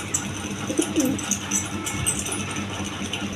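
A pair of racer pigeons coo softly close by, a few low throaty calls over a faint background hiss and light rattling.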